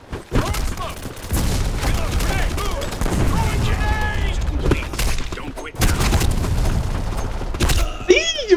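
Rapid automatic gunfire bursts in the online shooter Black Squad, loud and dense, broken by short pauses, with mechanical weapon clicks and someone talking over the shooting.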